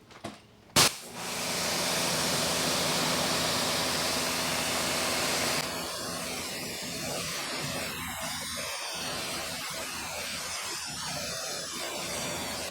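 Water sprayed from a hose or pressure washer rinsing a very dirty Volvo car, a loud steady hissing rush starting after a brief clunk, then shifting to a softer spattering spray against the car's body.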